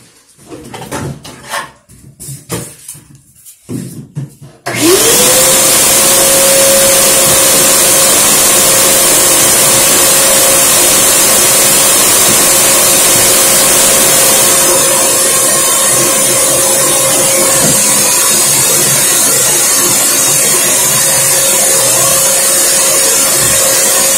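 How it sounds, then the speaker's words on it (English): Shop vacuum switched on mid-clip, a loud steady whine that runs continuously while a drywall patch in a bathroom is sanded with a sanding block, faint scraping beneath it. "turn on my vacuum, and we're about to sand this down"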